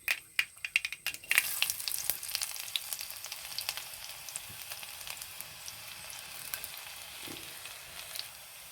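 Mustard seeds and shallots frying in hot oil, with a steady close sizzle and crackle. A few sharp pops open it before the frying settles into a continuous hiss, and no one speaks.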